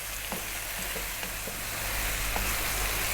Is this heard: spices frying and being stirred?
yes